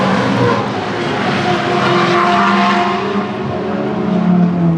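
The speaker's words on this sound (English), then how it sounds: "Cars are moving" Race cars at a Gridlife track event at Laguna Seca give off a continuous, loud engine roar that stays dense and steady throughout, with no voices.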